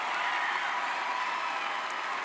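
A commencement audience at UNC Greensboro applauds in a steady, dense wash of clapping that fills a large hall, even and sustained from start to finish, with no talk over it.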